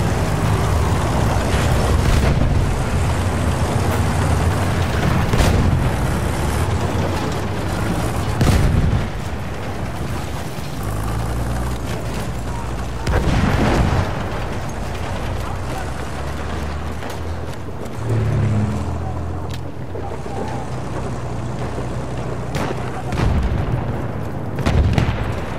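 Anti-tank rounds exploding in Battlefield 1 gameplay, a dense roar of deep booms and blasts recurring every few seconds, with heavy rumbling battle noise in between and a voice talking over it.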